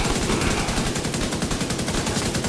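Assault rifle fire in The Division 2, with headshots landing: loud, dense bursts of rapid shots that hammer on without a break for the whole stretch.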